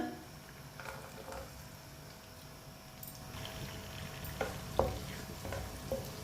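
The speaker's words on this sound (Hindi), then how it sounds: "लहसुन और टमाटर को 2 मिनट के लिए पका लेंगे।" Garlic and finely chopped tomatoes cook in oil in a pan, giving a steady low sizzle with a few brief scrapes and clinks of stirring near the end.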